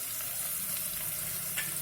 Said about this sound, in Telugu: ఇప్పుడు దాంట్లోకి మనం అల్లం వేసుకుంటున్నాను.